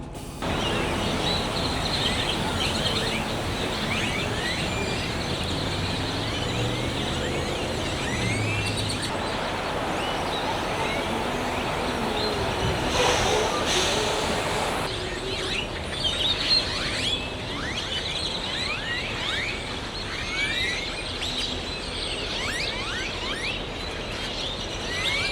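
Morning birds chirp and tweet continuously through a dense, steady outdoor background with faint mechanical rattling, moderately loud and without speech.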